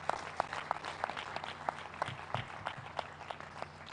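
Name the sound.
audience applause at symposium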